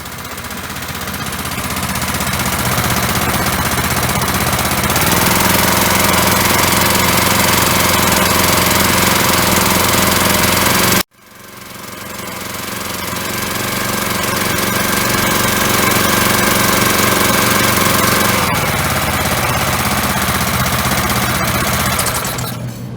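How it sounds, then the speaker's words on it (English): A Briggs & Stratton engine driving a hydraulic pump starts and runs with a loud, steady, rough mechanical drone. It cuts out abruptly midway, then fires up again and settles back into a constant roar. "let's see if we get that hydraulic pump fired up"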